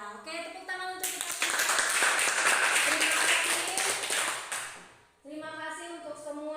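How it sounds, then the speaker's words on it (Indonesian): A classroom of students bursts into applause, dense clapping lasting about four seconds before fading out, with a voice speaking briefly before and after. "Ya, oke, tepuk tangan untuk kita."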